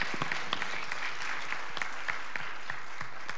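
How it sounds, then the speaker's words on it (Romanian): Audience applause for a singer heading onto the stage at a talent show, steady dense clapping with a few sharper individual claps standing out, continuing throughout with no talk. "Vă rog, aplauze pentru Maria."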